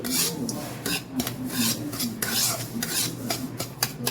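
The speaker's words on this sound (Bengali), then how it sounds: "এই যে ঘি দিয়ে এবার ভাজছি।" Semolina stirred and fried in ghee in a pan, with rhythmic scraping and rasping strokes of a spoon against the metal repeating every half second or so, close and fairly loud.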